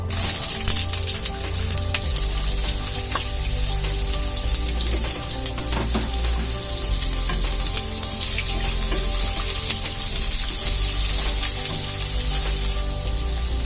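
Loud, steady sizzling of onions frying in hot oil, continuous throughout with occasional crackles and stirring, no talking.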